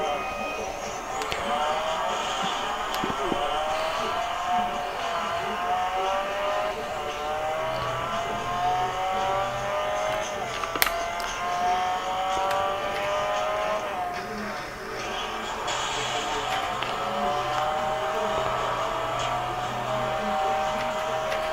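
Racing car engines whining and shifting through gears in Real Racing 3 on a Samsung Galaxy S8 Plus smartphone, a continuous mid-level drone with occasional tyre squeal and no one talking.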